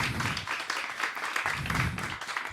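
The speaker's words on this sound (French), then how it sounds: "Vous pouvez les applaudir." An audience claps steadily at a French talk on artistic practice and well-being, a dense wash of many hands filling the room without a pause and no voices over it.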